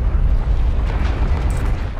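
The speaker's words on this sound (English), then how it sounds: "Call that detonation confirmed." A large, close explosion in the Call of Duty Infinite Warfare campaign roars as a sustained deep rumble with rolling low-end blast and debris texture, loud and alone.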